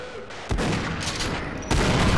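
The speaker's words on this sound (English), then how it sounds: "I don't have that machine gun that they're using anymore." Rapid machine gun fire in Half-Life Sven Co-op bursts in loudly, sustained and close, with a second surge of shots near the end.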